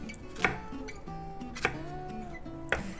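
Knife slicing a shallot on a cutting board, three crisp evenly spaced chops close up, with a faint held tone in between.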